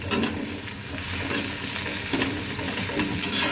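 Onions frying with salt in a pan until reddish, a dense continuous sizzle mixed with stirring scrapes, close and fairly loud throughout, with no talk.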